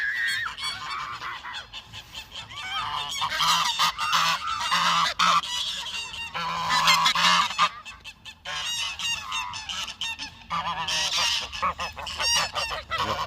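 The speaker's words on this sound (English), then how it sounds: "the geese are in full voice today" A flock of geese by the River Thames at Abingdon honks loudly and continuously, overlapping calls rising and falling in bursts across the whole stretch, close and dense with no talk.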